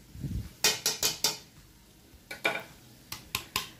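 A chopper blade dropped into a cooking pan with crushed ginger, garlic and green chilli, a cluster of sharp metallic clinks and rattles in quick bursts, then a few more near the end.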